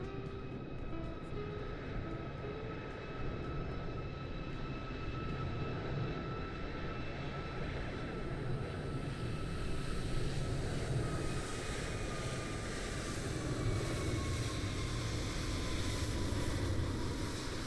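American Airlines jet taking off from runway 27 at San Diego, a steady loud roar with rising whine tones sweeping downward, building slightly louder toward the end, with no talk over it.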